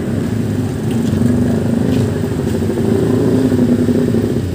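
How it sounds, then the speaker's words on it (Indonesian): A motorcycle engine putters close by in an afternoon market in Dongko, Trenggalek, a steady mid-pitched rumble with clatter and faint background bustle. "awas masih ada motor"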